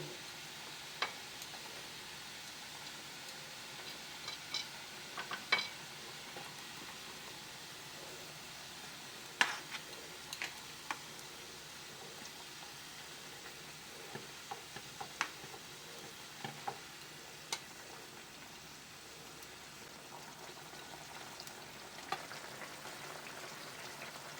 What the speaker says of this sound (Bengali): ফুটে গেছে, আমি ভেজে রাখা ট্যাংরা মাছগুলো দিয়ে দিলাম।